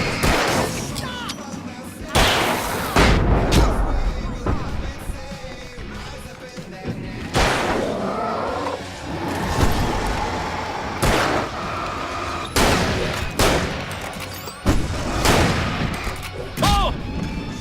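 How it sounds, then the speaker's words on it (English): Fireworks set off in the horror video game Alan Wake, heard as a series of loud booming bursts spaced several seconds apart, mixed with game effects and talking. "I can set off more of the fireworks from here and help you out!"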